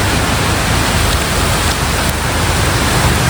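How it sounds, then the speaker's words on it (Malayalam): Rain pours steadily in a Thai village, a dense, even hiss of falling water heard close and loud with no voices. "മഴ ചോരാൻ വേണ്ടി കാത്തിരിക്കുകയാണ്."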